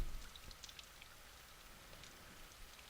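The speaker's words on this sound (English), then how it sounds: "Entranced by the sound of the rain pattering against the window" Soft, steady rain patters lightly against a window in a video game, with scattered faint drips in a quiet setting.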